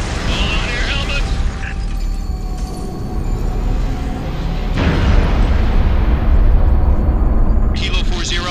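Final protective fire artillery barrage in Halo Reach pounds down as loud, sustained rumbling explosions that swell midway, over mechanical battlefield din, with radio-style voices talking through it.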